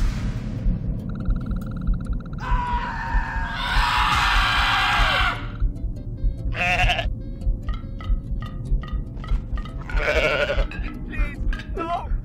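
Goats in Goat Simulator let out several loud, strained bleats and screams at intervals over a steady droning rumble of game music.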